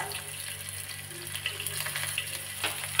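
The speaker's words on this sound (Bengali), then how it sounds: "আদা কাঁচা লঙ্কাটা হালকা করে ভেজে নিয়েছি" Ginger and green chili frying lightly in oil in a pan give a soft, steady sizzle with a few small crackles and faint scraping, fairly quiet and without talk.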